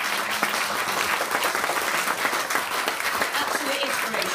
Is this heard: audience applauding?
yes